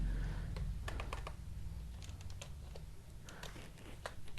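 Someone types on a computer keyboard while entering HTML paragraph tags, producing quick clusters of crisp key clicks with brief pauses between bursts, fairly close and quiet, with no one talking.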